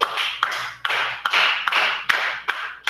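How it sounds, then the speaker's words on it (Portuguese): Hand clapping in a roughly steady rhythm, about two sharp claps per second, close and distinct, each followed by a hissy wash of room sound. "Batendo palmas."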